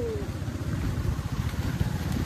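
A motorcycle rides a rough forest road through dense jungle at Duwarmora, its engine a steady low rumble with bumpy, uneven pulses and no pause across the stretch.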